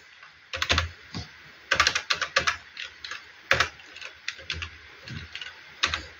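Computer keyboard typing during Photoshop wedding design work, irregular clusters of crisp key clicks with pauses between bursts, close and fairly loud, no voices.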